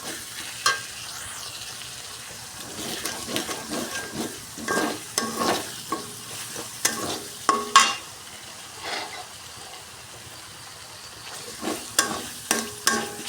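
A spoon stirs a frying tomato mixture with green chilli in a pan, steady low sizzling broken by intermittent scraping and clinking strokes against the metal, close and alone.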